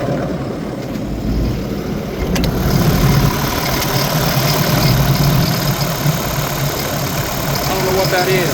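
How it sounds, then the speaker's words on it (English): A Sany SY95C excavator engine with about 1500 hours idles with a steady, loud, low rumble and a faint rattling edge, recorded up close. "I'll start it, and you can listen to the motor. It almost like it has a rattle."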